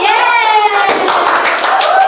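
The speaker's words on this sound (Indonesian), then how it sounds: "Beri tepuk tangan dulu." Students in a junior high school classroom clap their hands, a brief spell of close, dense applause with children's voices and speech running over it.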